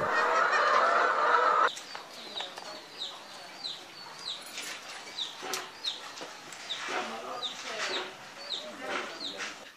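Hens and roosters on a farm at an organic agriculture training centre, with repeated clucks and short honk-like calls spread through the clip after a loud burst at the start, close by and moderately loud.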